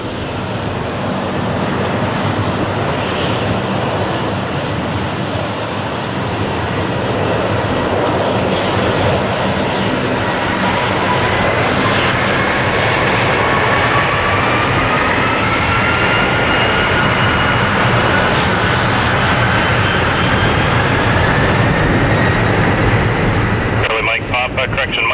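A jet airliner takes off from runway 6 left at Toronto Pearson, its engine roar loud and continuous throughout, with a slowly rising whine building over the steady rumble and wind buffeting the microphone.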